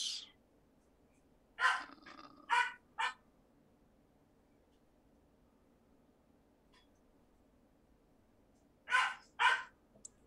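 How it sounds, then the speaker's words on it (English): A dog barks indoors in two short bursts, a cluster of three sharp barks followed after a long pause by a quick pair, moderately near, with quiet room hush between. "my dog is barking"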